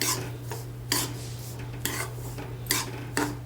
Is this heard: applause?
no